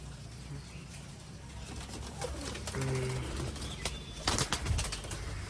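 King pigeons in a pigeon loft give a few low, soft coos amid rustling and light knocking, with brief wing movement near the end and a faint voice in the background.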